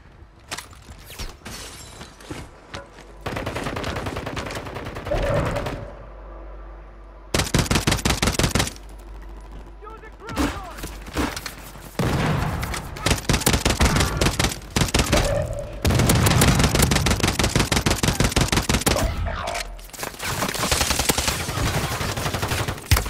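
Heavy automatic gunfire in a military shooter video game, long sustained bursts of machine-gun fire with sharp shots and impacts, loud and close, broken by brief pauses.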